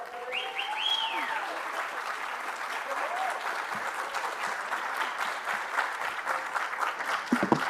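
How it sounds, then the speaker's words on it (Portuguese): An auditorium audience at a lecture event welcomes volleyball coach Bernardinho onto the stage with sustained, moderately loud applause that builds near the end, while a faint voice carries over a loudspeaker early on. "Recebam com uma salva de palmas"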